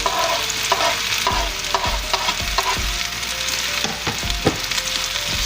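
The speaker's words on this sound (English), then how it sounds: "Stir this all around, get this all mixed up." Onion, green pepper and garlic sizzle in a pan for smothered fried potatoes, with a spoon scraping and stirring in repeated strokes over a steady loud frying hiss.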